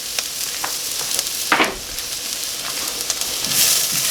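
Onions, peppers, garlic and tomatoes frying in a pan on a Kamado Joe grill for a goat and chorizo stew, a continuous close sizzle with occasional sharp crackles and a utensil clink, no voices.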